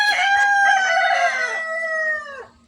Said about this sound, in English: Noisy cockerel.